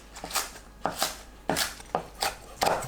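A knife chops green onion into large pieces and finely slices Cheongyang chili peppers on a cutting board for a soybean paste soup. Five or six crisp, close knocks come in an uneven rhythm, with no voices.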